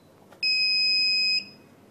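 A Turnigy Be Found lost-model alarm wired to a Spektrum AR7000 receiver on a quadcopter lets out one steady, piercing electronic tone lasting about a second, close and loud over faint room noise.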